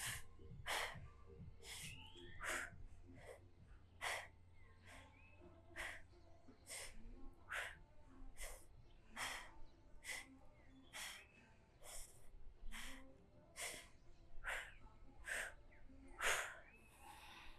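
Forceful power breathing during a core-bracing exercise: about seventeen sharp, noisy exhalations in a steady rhythm, close to the microphone, with quieter inhales between them and no talking.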